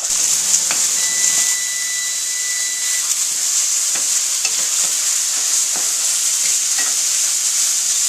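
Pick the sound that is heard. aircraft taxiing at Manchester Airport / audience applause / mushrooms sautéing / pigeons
mushrooms sautéing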